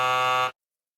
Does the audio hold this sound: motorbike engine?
no